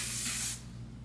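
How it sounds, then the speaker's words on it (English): A fine makeup setting spray mists onto a face in one steady, close hiss that cuts off about halfway through, leaving only quiet room tone. "it literally feels like you're spraying a really fine hairspray on your face"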